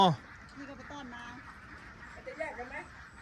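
Laying ducks on a farm in Pha Khao, Loei, giving a few nasal quacks at moderate distance. People talk over the birds throughout.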